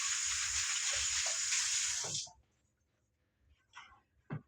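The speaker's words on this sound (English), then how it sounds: "I have to wash my hands again." Hands being washed under a running sink tap: a steady rush of water for about two seconds that cuts off abruptly, followed by a few faint rustles and clicks in near silence.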